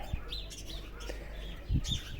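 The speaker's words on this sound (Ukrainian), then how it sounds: "Горобці цвірінькають." Sparrows chirp outdoors in short, scattered tweets over steady wind and background noise, moderately distant and fairly faint.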